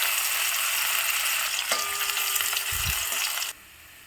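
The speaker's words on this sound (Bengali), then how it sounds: "কড়াইয়ে তেল গরম হয়ে গেছে। আমি কিছুটা পেঁয়াজ বেরেস্তা করে তুলে রাখবো।" Onions fry in hot oil in a wok, a loud continuous sizzle with a few scraping stirs and clinks partway through, cutting off abruptly near the end.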